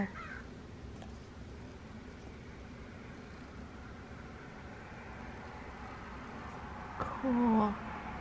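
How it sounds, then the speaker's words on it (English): A crow caws outdoors near the end as one short, harsh call. It rises over a steady, faint background hiss. "Got a crow out there."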